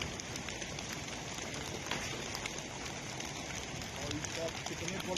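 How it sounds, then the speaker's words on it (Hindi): Rain and hail fall in a strong thunderstorm in Uttar Pradesh, making a steady, dense patter that runs throughout, with a voice speaking over it. "तेज आंधी तूफान से बारिश भी हुई और ओले भी गिरे"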